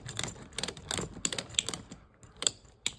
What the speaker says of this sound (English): There's a clicking mechanism for when we have enough tension.